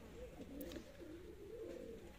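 Dab pigeons coo softly in a low, rolling, throaty murmur that goes on through the clip, faint over a steady background hiss.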